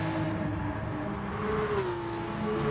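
Group 3 Porsche RSR race car engines in Gran Turismo Sport drone steadily at a loud, even level, a sustained engine tone rising and falling slightly as the cars run without any talk.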